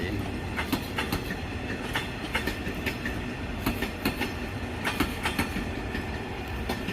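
A long train of 22 empty cars passes nearby at Bang Sue Junction, hauled by a locomotive with a second one mid-train. Its steady, rhythmic clickety-clack of wheels over rail joints continues throughout over a constant rolling rumble.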